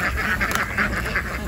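Ducks quack steadily in a rapid, repeating series, loud and close, on a farm near pine trees, with no talking over them.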